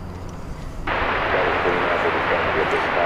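An MD-11 airliner at DFW Airport at night comes in as a sudden rush of broadband jet noise that cuts in abruptly and stays steady, loud and close.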